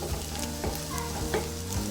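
Egg curry with green chilies, coriander and curry leaves being stirred in a hot pan, a continuous oily sizzle with soft scraping strokes of the spoon, close up and steady, with faint background music.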